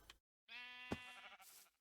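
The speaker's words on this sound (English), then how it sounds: "First we got to get the sheep" Sheep in a Minecraft game bleating, a clear harmonic bleat with a wavering tone, preceded by a brief faint sound and followed by soft noise.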